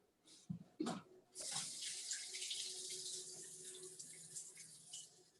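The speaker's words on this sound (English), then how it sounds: "you make your cooking time a little quicker if you put some hot water" Hot water poured from a tap or kettle into a baking tray in a home kitchen: a couple of brief clunks, then a steady hissing, splashing stream that runs continuously, moderately close, with no talk.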